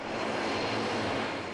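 A float plane's engine drones steadily and evenly for a moment, a faint, continuous aircraft hum with no voices over it.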